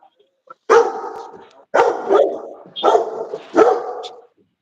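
A dog barks close by, four loud separate barks in a steady spaced rhythm, with quiet gaps between them and no talking.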